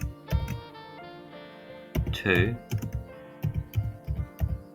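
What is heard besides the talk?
typing code on a computer keyboard in the Arduino IDE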